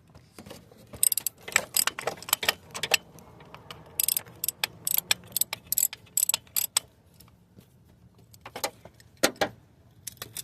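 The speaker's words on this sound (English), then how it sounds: "We trying to get that little bolt off right there." Hand ratchet working on a small bolt of a 1987 Cadillac during a headlight bulb replacement, giving rapid bursts of close metallic clicking in uneven runs with brief pauses between strokes.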